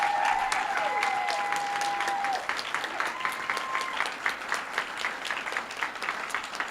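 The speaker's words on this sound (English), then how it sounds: "if we can give a big round of applause to Brenda for everything she did." Audience at a Celebration of Teaching 2018 event gives a warm round of applause, dense and sustained at first, then thinning out into scattered individual claps toward the end.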